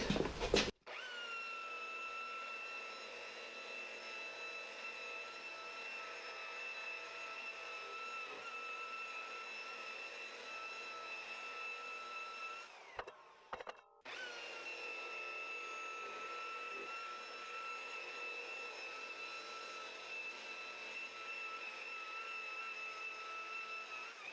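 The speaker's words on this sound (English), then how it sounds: "variable speed polisher." Variable speed polisher working an old Honda CR-V headlight, a steady high whine that runs continuously at close range and breaks off briefly midway before resuming, with no talking.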